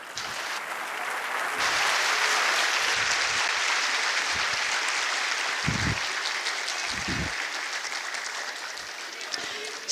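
An audience at the international peace and security forum in Dakar applauds steadily for several seconds, the clapping swelling and then holding, while a voice speaks over it.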